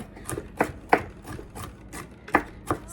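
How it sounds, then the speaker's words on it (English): Peppers are minced by hand with a knife on a cutting board, producing a rhythmic series of close, crisp chops. "we are just going to get this minced up real quick"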